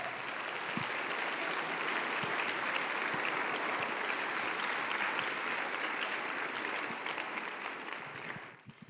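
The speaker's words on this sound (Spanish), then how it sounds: "Dale un aplauso al Rey de Reyes" A church congregation applauds during a Sunday sermon, a dense, steady wash of clapping that holds evenly for about eight seconds before fading at the very end.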